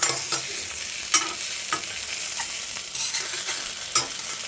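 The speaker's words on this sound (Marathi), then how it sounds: "मी परत एकदा पलटी करून घेतलेत आणि असे मस्त लालसर भाजून द्यायचे" Stuffed village brinjals and masala roast in a pan with a constant bright sizzle, punctuated by several sharp scraping stirs and turns of a spatula, close and without voices.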